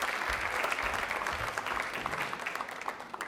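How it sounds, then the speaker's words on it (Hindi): Studio audience clapping steadily for a guest naturopathy doctor on a televised Rajasthani quiz show, dense broadband applause from a crowd filling the whole moment without speech. "एक बार तालियां इनके लिए हो जाए"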